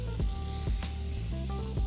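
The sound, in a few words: spray painting a car with paint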